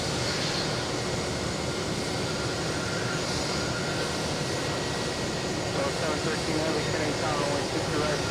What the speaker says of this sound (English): And we have JetBlue taking off right now on A321.